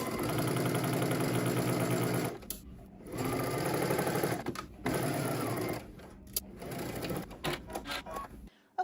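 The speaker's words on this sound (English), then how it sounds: "head to your sewing machine. You're just going to stitch 5/8 of an inch" A sewing machine stitches a 5/8-inch seam on a dress, running in steady mechanical bursts with brief pauses between them and no talking.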